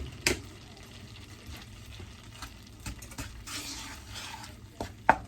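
A spoon stirs a melting caramel sugar mixture in a pan for banana Foster French toast, with soft scraping and a few sharp clinks against the pan, close and fairly quiet, no talking.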